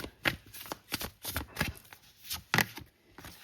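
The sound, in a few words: tarot cards being shuffled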